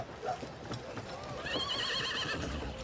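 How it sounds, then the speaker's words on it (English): Horse hooves clop steadily while a horse whinnies partway through, as sound effects during a tabletop role-playing game session, under a murmur of voices and ambient noise. "Horse sounds in the background."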